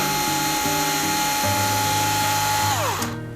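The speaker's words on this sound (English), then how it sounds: "I do like an electric screwdriver" Up close, an electric screwdriver whines steadily as it drives fine-pitch threads. Its pitch stays level, then drops sharply as the motor winds down near the end.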